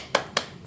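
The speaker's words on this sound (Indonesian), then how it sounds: "kita tepuk semangat dulu yuk" A class claps a rhythmic spirit clap at the start of a lesson, with two sharp hand claps in quick succession and close by.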